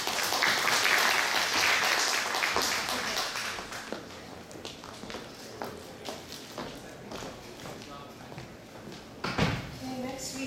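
Audience applause after a talk at the Silicon Valley DeepTech Summit 2018, a full, loud burst of clapping that gradually thins and fades, with scattered claps and shuffling remaining.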